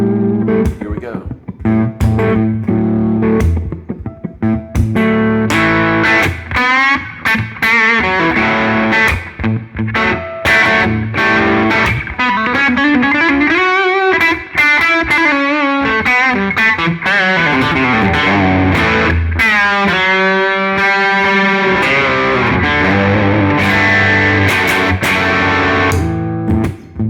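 A J Mascis signature Squier Jazzmaster electric guitar plays a distorted lead through effects, running as continuous loud sustained notes and bends with no talking.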